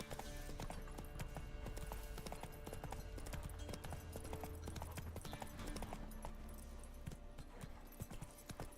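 Steady clip-clop of horse hoofbeats from the horse Roach in The Witcher video game, a continuous rhythmic gallop running throughout with game ambience, loud and close, with no one talking.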